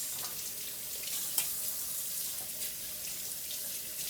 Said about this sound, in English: Gotta make sure all that grit and grind is off. I wash all my meats.